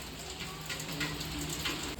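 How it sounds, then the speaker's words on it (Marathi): Steady rain falling, a continuous broadband hiss with soft patter, fairly even in loudness throughout. "मस्त जोरदार पाऊस आहे"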